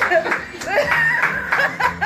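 An audience claps and laughs together in short bursts, with excited voices and chuckles mixed through the applause.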